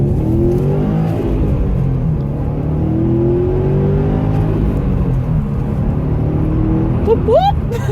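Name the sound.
Subaru WRX STI exhaust revving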